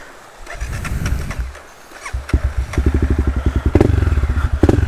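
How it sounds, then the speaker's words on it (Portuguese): A small motorcycle on a muddy trail is started: a few sputtering cranks and coughs, then the engine catches into a rapid, close putter that settles into a steady idle with clattering firing pulses. "Ligue, motinha, ligue."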